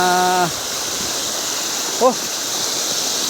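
A mountain stream flows steadily as a broadband rush of water, close and continuous, with a brief tonal whistle at the start and a short chirp midway.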